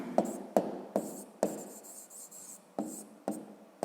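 Writing by hand on paper to set down a math answer, a close series of short scratchy pen strokes with brief pauses between them, alone and fairly quiet.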